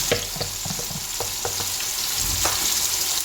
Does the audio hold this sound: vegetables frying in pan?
yes